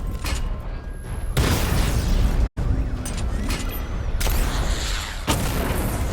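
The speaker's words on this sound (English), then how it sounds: "Charge the missile barrage to level 2 to destroy up to 4 targets at once." Missile barrage explosions from the Batman: Arkham Knight video game roar in heavy, continuous booming blasts with rumbling bursts, cut once by a sudden momentary silence before the loud barrage resumes.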